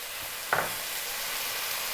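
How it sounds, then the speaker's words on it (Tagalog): Pork sautés in a pan with garlic, onion, soy sauce and calamansi juice, giving a steady soft sizzle and one brief stir or clink partway through. "Gigisahin ko lang po siya ng mga 3 minutes."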